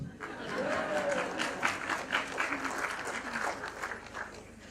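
Clapping from the audience at a school speech day and prize giving, a moderate, fairly distant patter of many hands that swells and then eases, with faint voices beneath.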